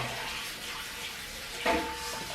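Water runs from a tap while washing at a sink, a low, steady hiss with a brief clatter of dishes or hands near the end, and no voices.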